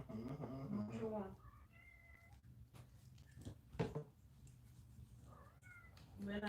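Small kittens hiding under a bed mew in short, high, thin cries, several calls spread across the scene, mixed with people talking nearby in a room.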